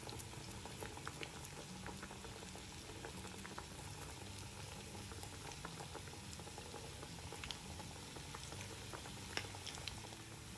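Black chickpea fritters frying in oil in a pan over a medium flame, giving a steady, dense sizzle and bubbling that runs unbroken throughout, close and fairly quiet, with no talking.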